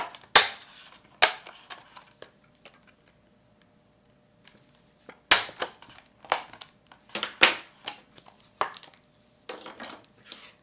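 A hole punch snaps through a clear plastic face shield in a home craft setting, giving a series of sharp, dry clicks and cracks, some single and some in quick clusters, with short silent gaps between them.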